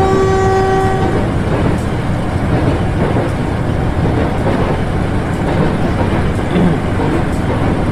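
A Prameks commuter train in Trainz Simulator crosses a level crossing at Yogyakarta station, opening with a sustained horn blast over about a second before settling into a loud, steady rolling rumble of wheels and engine, with no talking.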